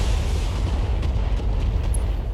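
Weapons fire in the BattleTech video game, a dense, heavy rumble of blasts and booms with a few sharper cracks layered on top, loud and continuous over a couple of seconds.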